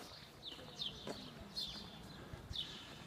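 Birds chirp outdoors in a quiet lockdown setting in Alcudia, Mallorca: a few faint, high, short calls spaced across a few seconds over a low, hushed background.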